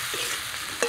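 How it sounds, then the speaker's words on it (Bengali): Vegetables being stirred in a frying pan while cooking puti fish curry, a soft continuous frying hiss with a spatula scrape and a brief clatter near the end. "নেড়ে চেড়ে একটু মিশিয়ে নিলাম"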